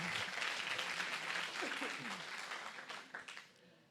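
A church congregation applauds loudly during a Spanish-language sermon, a dense wash of clapping that holds steady and then thins toward the end, with some voices mixed in.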